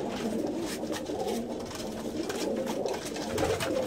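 Young pigeons scuffle over a nest box in a breeding loft, with repeated coos and fluttering, pecking bursts close by throughout.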